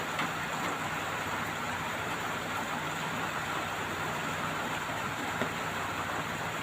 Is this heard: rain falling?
yes